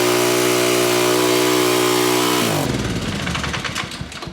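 A small gasoline engine on power equipment being run dry during winterizing, a loud steady buzzing drone that falters and turns rough and sputtering partway through as it runs out of fuel, close by and alone.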